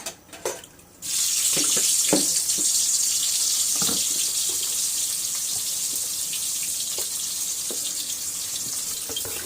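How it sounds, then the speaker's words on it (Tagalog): Dried fish washed under a running kitchen tap, with a steady loud gush of water that starts suddenly after a second of handling and continues close by, with occasional splashes and knocks. "yung tuyo natin hinugasan pala"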